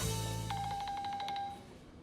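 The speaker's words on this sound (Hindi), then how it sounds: "पता नहीं किसका फोन आ गया।" A telephone rings with a short electronic warbling tone, a quick pulsing burst lasting about a second, heard fairly faintly over a low background hum with no talking.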